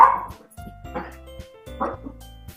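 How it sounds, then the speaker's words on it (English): Dogs barking at home in three separate bursts, sharp yips and barks fairly close, with a voice talking in between. "Pardon my dogs. They're stupid."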